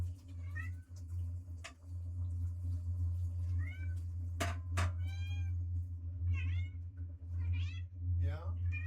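An indoor cat waiting to be fed meows repeatedly, several rising, close meows spread across the stretch over a constant low mains-like hum, with sharp knocks in between and a person speaking gently.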